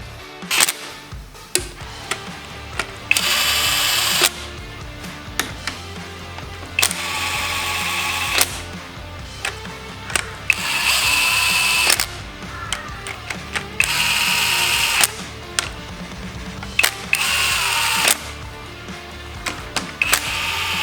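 Head bolts on a reinstalled Toyota 3F engine cylinder head run down with a power tool in repeated loud bursts of a couple of seconds each, separated by short pauses and clicks, with no talk.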